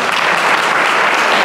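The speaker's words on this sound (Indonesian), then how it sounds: "tepuk tangan sekali lagi" Students at Pahoa school applaud a motivational speaker, a dense, loud wash of many hands clapping close by, continuous and even throughout with no speech on top.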